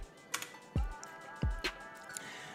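Keystrokes on a Mac computer keyboard come as a few separate close clicks and taps, spaced irregularly, with no talking.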